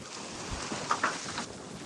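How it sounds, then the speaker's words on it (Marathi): Strong wind roars across the microphone in a steady, noisy rush, with a couple of brief gusts swelling louder midway. "कसला वारा सुटलाय"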